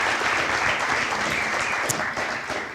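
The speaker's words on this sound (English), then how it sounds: "Let's give him a big round of applause." An audience at a spring sports awards event applauds a pole vaulting coach with a dense, steady wash of clapping that holds loud and then tapers slightly at the end.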